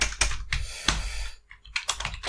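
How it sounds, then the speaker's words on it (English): Quick bursts of computer keyboard typing sound close by, with uneven clusters of keystrokes separated by short pauses. "So, if I can actually type."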